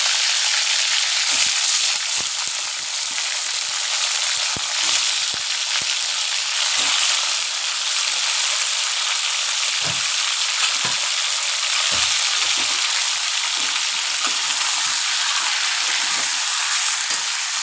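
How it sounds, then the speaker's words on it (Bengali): Chicken pieces sizzle steadily in hot oil in a pan for a Bengali chicken curry, a loud, dense frying hiss running throughout with occasional soft stirring clicks and scrapes. "কালারটা চেঞ্জ হওয়া পর্যন্ত ভেজে নেব"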